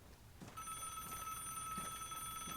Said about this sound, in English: The phone is ringing too.